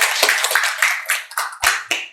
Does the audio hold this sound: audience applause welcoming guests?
yes